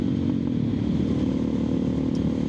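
Suzuki DR650 dual-sport motorcycle engine held at low, roughly quarter-open throttle, a steady close mechanical drone with light clatter and no rise in revs, running alone.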